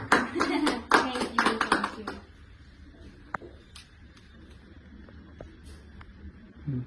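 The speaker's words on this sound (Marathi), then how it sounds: "जोरदार टाळ्या." A burst of loud clapping from an audience at an event honouring a guest, dense and sustained for about two seconds before cutting off abruptly, leaving only faint room noise and a few scattered sounds.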